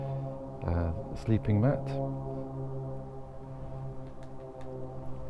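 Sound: airplane flying overhead

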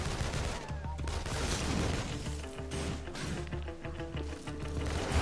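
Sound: gunfire in the video game Infamous 2

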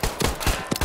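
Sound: pistol gunshot in a video game

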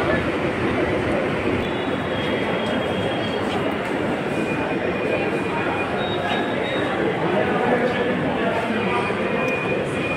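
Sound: Delhi metro train at station

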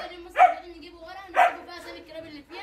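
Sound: German shepherd dogs barking in kennel boxes

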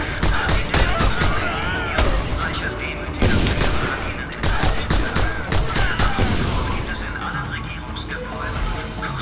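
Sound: gunfire from the video game Just Cause 2

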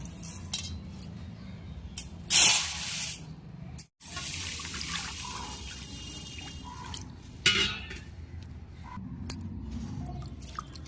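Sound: pouring water onto rice

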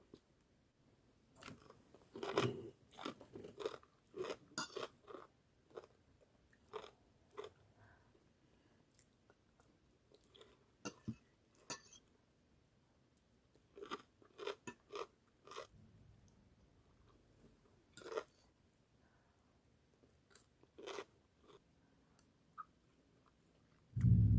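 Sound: chewing and crunching while eating som tam papaya salad

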